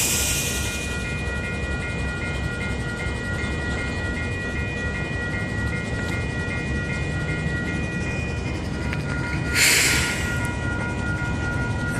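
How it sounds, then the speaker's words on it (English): Train backing slowly into the 11th Street SW level crossing in Calgary, a steady low rumble of rolling railcars with crossing bell tones ringing throughout and a brief hiss burst near the end. "This train backed into here."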